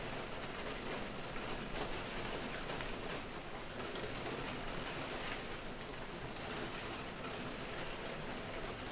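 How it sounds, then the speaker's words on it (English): Heavy rain beats steadily on the roof windows of an attic workshop, a dense, continuous patter that holds at an even level throughout with no voices. "you can really hear the rain kind of beating down on the roof windows and stuff"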